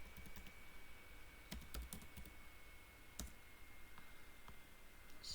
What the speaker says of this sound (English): you just come here and type underline